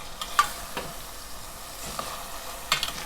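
Smoked herring frying in oil in a pan and being stirred, with a soft, steady sizzle and a few faint scrapes of the utensil, heard at close range without talking.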